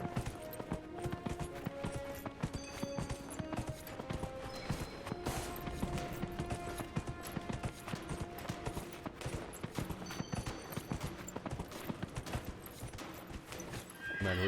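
Rhythmic hoofbeats from a galloping horse in Dragon Age: Inquisition, with a whinny and tonal game music layered over it, moderately loud and continuous throughout.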